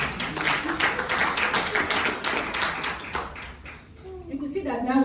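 Church congregation applause in a worship service, brisk close-up clapping from many hands that fades out near the end as a voice begins speaking.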